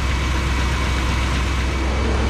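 A Chevrolet Bel Air's 348 V8 idles steadily in an enclosed space, a continuous close, loud rumble with no breaks.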